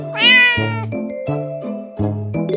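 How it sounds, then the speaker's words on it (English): A domestic cat meows several times in a row, a loud drawn-out first cry followed by shorter, clear meows, close and alone with no talking. "It's a cat!"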